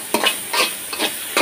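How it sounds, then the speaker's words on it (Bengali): Helencha greens with onion and green chili fry in oil while being stirred, giving a steady sizzle broken by four or five scraping stir strokes, close and fairly quiet. "তো আমি এটা তেলে ভাজা করে খাবো, কাঁচামরিচ পেঁয়াজ দিয়ে একটু ভাজা করে নেব"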